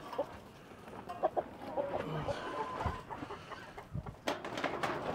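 Chickens cluck and murmur in scattered bursts at close range, with rustling and shuffling movement around them throughout.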